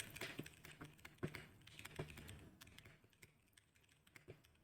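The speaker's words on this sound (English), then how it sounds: "I'll just type out a message." Fingers type a message on a computer keyboard, producing quiet, irregular bursts of close key clicks that thin out toward the end.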